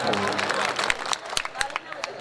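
Audience at a Zaidpur mushaira poetry gathering clapping for a poet, scattered uneven hand claps rising after a spoken voice, with some murmur in the crowd.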